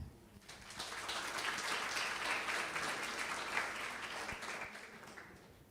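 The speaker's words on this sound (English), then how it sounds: "Please give big round of applause for this event." Audience applause at an academic event on the global economic order, a steady wash of clapping from many hands that holds at an even level for several seconds before easing slightly at the end.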